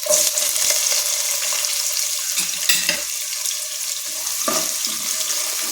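Chopped onion added to cashews frying in hot oil, giving a steady sizzling hiss throughout with a few clinks and stirring scrapes of the pan, close and fairly loud.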